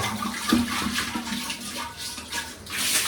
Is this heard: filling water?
yes